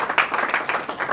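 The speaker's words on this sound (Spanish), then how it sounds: "Dar un aplauso a Cristo" Church congregation claps in a brief burst of applause, a rhythmic patter of hands at moderate loudness.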